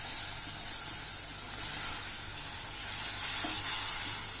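Steady sizzling hiss of fresh tomato puree cooking in a pan for Sindhi tomato curry, with soft scraping as it is stirred, continuous and fairly loud throughout.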